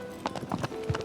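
Horse hooves clip-clop in a video game, a handful of quick, uneven hoofbeats at close range over a steady low background hum, with no voices.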